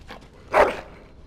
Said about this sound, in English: Bloody dog.